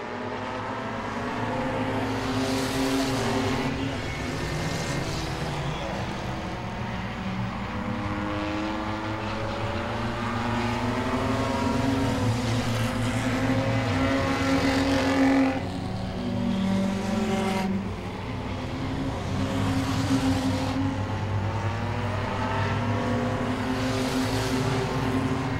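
Race cars roar around an oval track during a crashing stock-car style race, a loud continuous engine drone with rising and falling passes and no talk over it.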